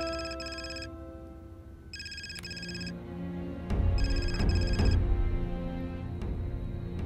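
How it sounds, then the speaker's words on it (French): A telephone ringing in repeated electronic trilling bursts of about a second each, separated by short gaps, over a background music score that swells in the second half; no speech. "Allô, Gaël?"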